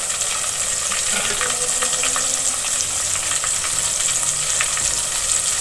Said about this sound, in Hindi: अब टमाटर को मैं इसी में लहसुन के साथ भून लूंगी।